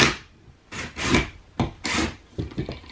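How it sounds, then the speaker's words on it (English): A screw being driven into a pilot hole in wood while building workshop storage shelves, heard as several close, loud rasping bursts of turning and grinding with short pauses between them. "get a screw started in that pilot hole that was drilled"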